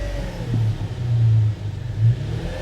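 A car engine with a stuck-open throttle revving with the accelerator floored to about 2,000 RPM, a loud close rumbling drone that swells and dips in several surges.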